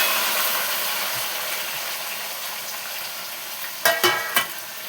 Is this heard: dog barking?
no